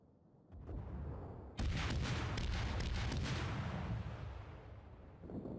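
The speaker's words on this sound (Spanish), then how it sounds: "Siempre disparo cañones uno a uno" Naval cannon fire in World of Warships: a deep boom swells into a long, loud rumbling roar that slowly fades, with a quieter earlier thud before it.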